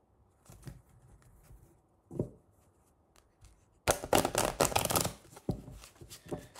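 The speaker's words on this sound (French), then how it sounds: "Je vais mettre les cartes dans le jeu et puis je vais te faire un tirage solo." Playing cards are slid into a deck with a few soft taps, then shuffled in a loud, dense riffling burst that comes close and breaks into shorter flicks.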